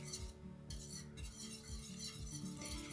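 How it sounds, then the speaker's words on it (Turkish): A spoon stirs chocolate milk pudding in a pot on the stove, giving a steady scraping and clinking against the pot with a low continuous background hum. "Ocağın altını açtım ve muhallebimi karıştıra karıştıra ara vermeden pişiriyorum."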